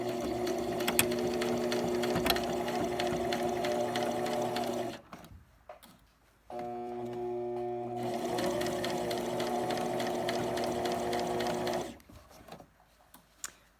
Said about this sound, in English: we're going to sew right next to the edge of the fabric